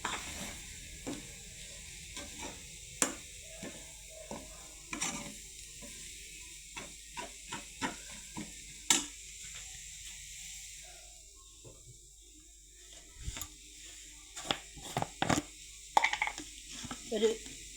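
Curry ingredients stirred and mixed in a pan, with scattered scraping clicks and soft sizzling, quiet and intermittent, with a gap of near silence midway.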